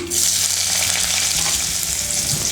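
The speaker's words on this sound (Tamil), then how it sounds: "இப்போ வந்து வெங்காயத்தை வதக்கிக்கலாம்" Onions frying in oil with mustard seeds and urad dal for bitter gourd sambar, a loud, steady close sizzle with soft stirring throughout.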